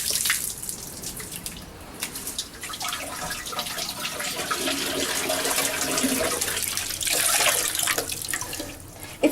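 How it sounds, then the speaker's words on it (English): Water pours and splashes steadily from a bowl into a container, a continuous close-up gush with fluctuating intensity that swells louder near the end. "It's like you're pouring an entire like bowl of water in there."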